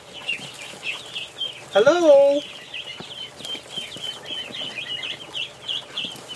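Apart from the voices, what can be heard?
ducks calling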